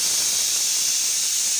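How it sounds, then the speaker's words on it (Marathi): A pressure cooker whistles steadily while cooking masale bhat with peas, a loud continuous hissing steam release running throughout without pause. "अशा प्रकारे शिट्ट्या करून घ्यायच्या 2।"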